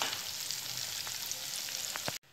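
Koftas for malai kofta frying in oil on a low flame, a steady quiet sizzle with a few small pops, cutting off abruptly near the end.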